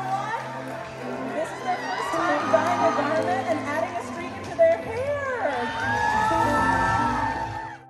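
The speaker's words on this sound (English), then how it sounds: "There is so much screaming going on around us." A crowd at an anime and cosplay convention in Jacksonville, Florida screams and cheers loudly, voices shrieking and whooping over one another in a sustained, rising roar with people talking close by.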